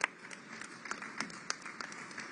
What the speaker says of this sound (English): a round of claps again for all our panelists, please